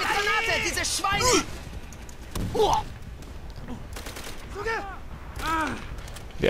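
Bursts of machine gun fire and other gunshots in the World War II shooter Call of Duty: World at War ring out between stretches of excited talk, with loud rattling volleys early and near the end.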